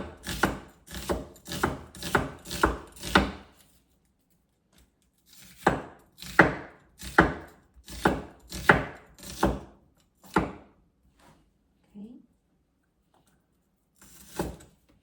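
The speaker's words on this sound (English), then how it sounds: "you can cut the way you like to cut those into small like slices" A kitchen knife slices onion into small pieces on a cutting board while Chow Mein is prepared, with quick rhythmic crisp chops in two bursts and a few scattered cuts after a pause.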